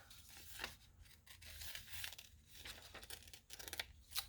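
Scissors cutting a paper doll's neckline out of thin magazine paper, a quiet series of crisp snips and tearing rasps with small crinkles between them, close up and without speech.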